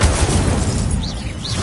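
Roaring, crackling burst of the Incendio fire spell in the video game Hogwarts Legacy, loud and dense throughout with a brief whooshing sweep near the end.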